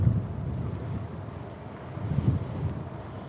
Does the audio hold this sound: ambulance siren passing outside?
no